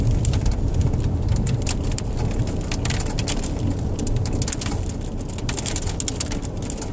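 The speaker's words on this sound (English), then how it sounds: "It's actually a hailstorm again." Hailstorm pelting down outdoors, a dense, loud patter of hits and rattles that keeps up a constant noisy wash with sharper clicks throughout and no talking.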